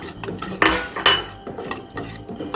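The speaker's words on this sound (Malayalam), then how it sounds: "നമ്മൾ ഇതിൻ്റെ ജ്യൂസ് ഇതിലേക്ക് ഒഴിച്ചു കൊടുക്കുകയാണ് ഇളക്കി കൊടുക്കാം" Neem juice stirred into a homemade Ayurvedic soap mixture, with a spoon scraping and clinking against the pot in a few close, brisk strokes.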